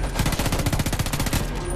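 Rapid automatic gunfire from a weapon in the video game Homefront: The Revolution rattles in a fast, even burst of close, loud shots that runs almost the whole time before cutting off.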